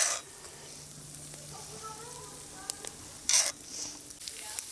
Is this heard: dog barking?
no